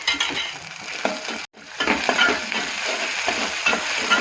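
Onions and ginger garlic paste frying in a pan for giloda (ivy gourd) curry, a steady close sizzle broken by repeated scraping stirs and a brief pause midway, with no talking.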